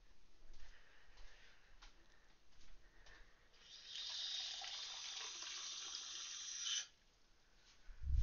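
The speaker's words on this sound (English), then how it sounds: "Pour the water for the tea." Water pours for tea, a faint trickle that swells into a steady rushing stream for a few seconds before stopping abruptly, with quieter clinks and small sounds around it and a low thump at the end.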